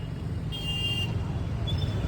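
Traffic waiting at a road signal, a low idling engine rumble with a short horn toot in the middle and a faint second beep later, fairly quiet and without talk.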